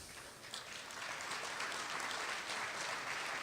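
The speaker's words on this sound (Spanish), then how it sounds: "Te acompañamos con un fuerte aplauso." An audience at an anniversary economics panel applauds with steady, dense clapping that holds evenly for a few seconds, heard at a moderate distance.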